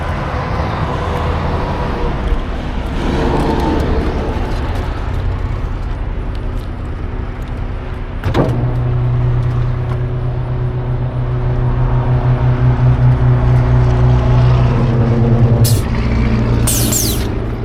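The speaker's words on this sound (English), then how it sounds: "Once those back tires start grabbing though, it should be pulled right out." Heavy engine rumble from a recovery vehicle pulling a stuck semi truck off a rock embankment, steady and loud, with a sharp air-brake hiss midway and a sustained tonal engine strain after it.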